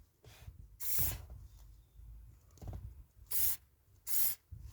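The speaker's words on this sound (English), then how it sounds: "it's a simple case of getting a can of GT85 or silicone lubricant" Short hissing bursts of GT85 or silicone lubricant spray from an aerosol can onto heater control cable runners in a Ford Focus Mk1. Several quick puffs come close and clear, with quieter rustling in between.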